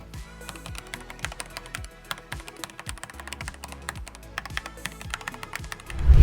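Quick typing on a 75% keyboard with a plastic base, dense irregular key clacks close to the mic, ending with a louder thump.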